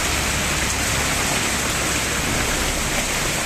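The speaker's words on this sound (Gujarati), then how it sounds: "ઘટવાને બદલે વરસાદ વધી રહ્યો છે" Heavy rain pours down steadily with strong wind during a March storm, a dense, unbroken hiss of water beating on surfaces that fills the whole scene with no voices.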